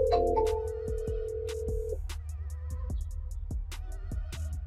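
An outgoing phone call rings through a handset: a single electronic ring tone sounds for about two seconds, then a quieter line buzz follows with faint clicks and tonal blips.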